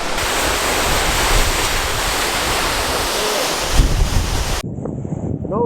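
Rushing river water near Kaaterskill Falls roars steadily and loudly, mixed with wind buffeting the microphone, before dropping abruptly to a quieter, softer flow near the end.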